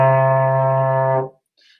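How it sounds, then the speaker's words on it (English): A single trombone note, a C played in sixth slide position, sounds steady and full for just over a second before cutting off, followed by a faint breathy trace. "this is 6th position C."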